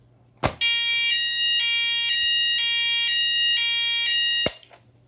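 A fire alarm set off from a manual call point blares a loud, steady multi-tone electronic ring for about four seconds, then cuts off, with a click at the start and end.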